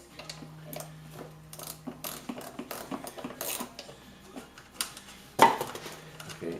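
A ratchet loosens the 8mm starter bolts on a Ford Contour, with rapid metallic clicking in uneven bursts close up, mixed with tool clinks and a sharper knock near the end.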